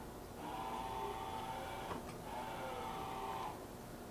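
Okamoto OGM-820UNCB CNC universal cylindrical grinder, its ball-screw-driven z-axis moving at rapid traverse. Two quiet, smooth whirring runs are heard, each a second or so long, with a brief soft clunk between them.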